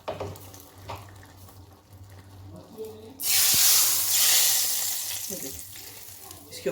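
Hot desi ghee poured as tempering over black pepper chickpeas bursts into a loud, sharp sizzle partway through after quieter kitchen sounds, then settles into a steady hiss.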